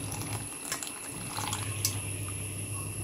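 Thin third-extract coconut milk being poured into a pan for jackfruit chakka payasam, a soft trickling liquid sound, fairly quiet and close with faint background hum.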